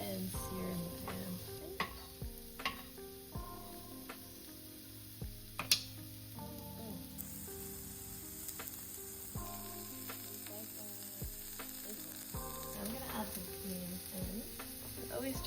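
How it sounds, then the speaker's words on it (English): Mushrooms searing in a pan over higher heat, uncovered, give a faint steady sizzle with occasional clicks and taps from utensils, running quietly for the whole stretch under a low background hum. "I'm just kind of let them sit and sear in the pan."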